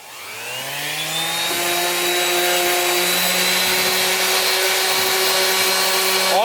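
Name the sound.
scuffing rusty car body panel during rust repair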